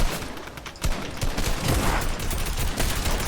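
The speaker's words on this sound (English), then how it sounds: "Let's shoot this guy." Gunfire in the video game Fortnite, a loud, close barrage of rapid shots running almost continuously, with a few sharper individual cracks.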